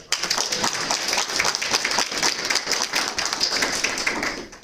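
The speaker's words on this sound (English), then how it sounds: "You have to give him a round of applause" Sustained round of applause from a town hall meeting audience, dense overlapping claps holding steady and fairly close, then tapering off at the very end.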